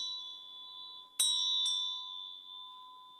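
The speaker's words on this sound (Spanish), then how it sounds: "los sonidos de campanas que se usan antes de rezar" Two bell strikes ring out, the first loud and the second softer about half a second later, each leaving a long shimmering ring over a steady high tone, like bells sounded before prayer.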